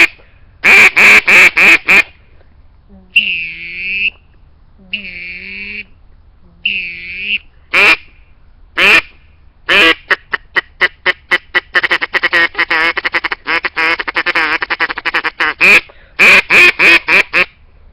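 A loud duck call blasts rapid quacking runs, short honking notes and drawn-out quacks in bursts, imitating ducks up close with pauses between sequences.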